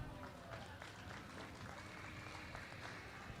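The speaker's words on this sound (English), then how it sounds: "let's give this Speckle Park Championship female class a big round of applause" Applause from a crowd at the Barrie Fair cattle show for the Speckle Park championship female class, a faint, steady patter of clapping heard at a distance, with some voices mixed in.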